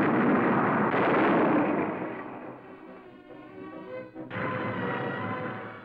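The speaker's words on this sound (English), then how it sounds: "75 millimeter cannon firing from the sky can and have sunk a destroyer." A 75 millimeter cannon fires from a World War II warplane, a loud sustained blast and rumble that fades, then a second heavy burst of roaring gunfire.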